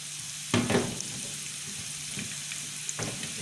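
Chopped green onion and finely cut garlic sizzle steadily in a spoonful of ghee in a frying pan, with a few louder scraping stirs breaking through the constant hiss.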